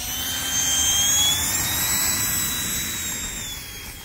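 An AeroScout jet engine runs loud and steady, a broad roar with a high whine throughout, with no speech over it.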